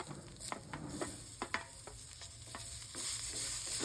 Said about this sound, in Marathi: हे पण सगळे जीव करून घेऊया आपण छान परतून घेऊया